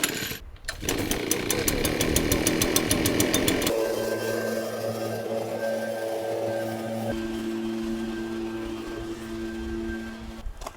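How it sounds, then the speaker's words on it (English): A borrowed two-stroke leaf blower runs loud and steady at a campground, its engine note shifting pitch and load partway through with a high whine and strong low drone throughout. "The campground let me borrow their leaf blower"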